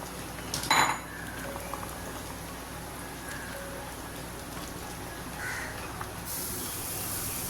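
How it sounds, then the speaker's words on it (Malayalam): A spoon stirs chicken curry with roasted coconut paste in a metal pot, giving a sharp clatter near the start, then softer scraping clinks over a steady low hiss. "എന്നിട്ട് ഇളക്കി കൊടുക്കാം"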